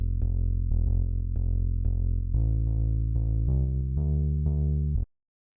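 Gritty, distorted FM synth bass from Ableton Operator plays root notes for a future-beats track, a clear sequence of about a dozen short, punchy low notes in an even rhythm that stops abruptly.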